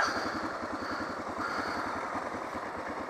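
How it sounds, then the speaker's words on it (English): A big old diesel engine idles steadily nearby, a low rhythmic clattering throb that runs evenly and moderately loud for the whole stretch. "Big old diesel back there."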